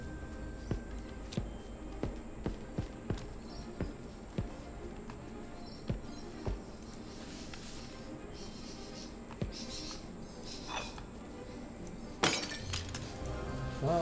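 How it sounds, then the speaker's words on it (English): A liquid flask is smashed in the puzzle game Escape Simulator. Soft, regularly spaced ticks and knocks lead up to a short, bright shattering crash near the end, all at fairly low volume. "smashing some liquid on the unfinished note did nothing"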